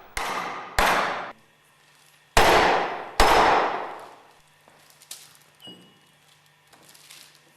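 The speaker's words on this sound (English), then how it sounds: "Carefully hammer the clutch driver into the grooved ball bearing with light blows using a rubber mallet." A rubber mallet delivers four loud, separate blows to drive a clutch driver into a grooved ball bearing on a Westfalia OSD18 separator, followed by quieter knocks and small clinks of parts being handled.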